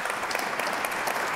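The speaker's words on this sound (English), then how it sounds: "They're applauding me for sitting down" Applause from an audience at a panel talk on human spaceflight, a short, dense, even burst of many hands clapping at steady volume.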